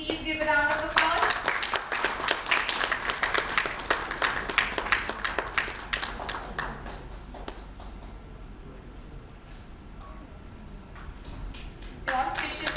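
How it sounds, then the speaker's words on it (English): Audience applause at the opening of a university zoology conference, a dense burst of clapping that thins after several seconds to scattered claps, with a voice returning near the end. "Please give a round of applause."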